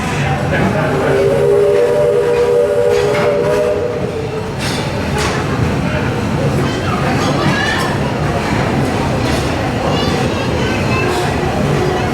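A Walt Disney World Railroad steam train rumbles and clatters steadily, with a short tonal whistle sounding early on; faint voices murmur beneath the rolling noise.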